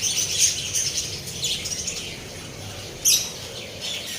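Pet shop lovebirds and finches chirp and tweet in bright, repeated bursts, with a sharper squawk near the end, moderately close over a soft background hum.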